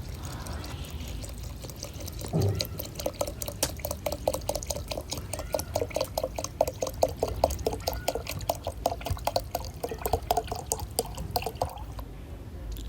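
Water poured steadily into a cooking pot for a Nepali khichdi-style dish, a continuous close splashing and dripping stream that runs for most of the stretch and stops near the end.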